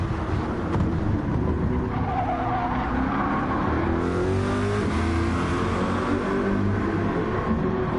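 A Corvette race car at Spa in a racing game roars at full throttle, a loud continuous engine drone with shifting pitch and tire noise filling the whole stretch.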